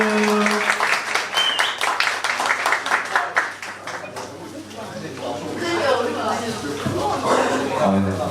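A church youth group claps to welcome a teacher to the front, brisk applause that fades after a few seconds into murmuring and talk as people settle.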